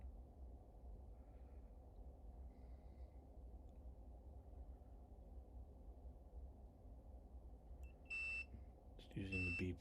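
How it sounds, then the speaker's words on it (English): A digital multimeter's continuity-test beep sounds as probes touch points on an electronics base module: two short, faint electronic tones near the end, over a low steady hum. "Just using the beep functionality of the digital multimeter."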